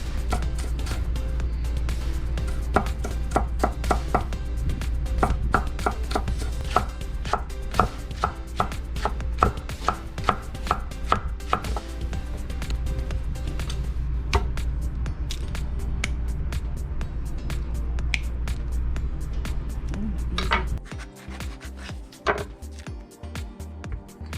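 A knife chops vegetables rapidly and steadily on a cutting board for a long stretch over a constant low hum, then slows to a few scattered knocks.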